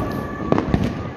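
Diwali fireworks burst outdoors at night in Chhattisgarh, a few sharp pops and crackles cutting through a constant background of distant celebration noise.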